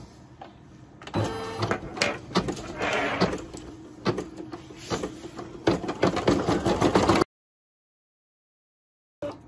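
A sewing machine stitching machine applique runs in rapid mechanical bursts with clattering needle strokes, loud and close, then cuts to silence near the end.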